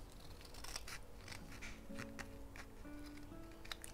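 Scissors snip off part of a junk journal page, a few quick close paper cuts over a quiet room background.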